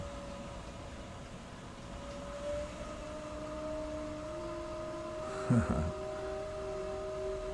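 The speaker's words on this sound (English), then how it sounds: "I apologize for that whistle in the back." A high, siren-like whistle rings out from the back of a room during a talk. It holds as a steady tone that shifts pitch partway through, and a brief thump lands near the end.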